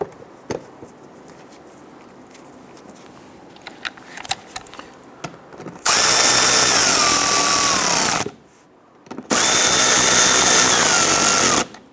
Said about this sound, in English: You just gently want to snug these down. Get our lower screws installed.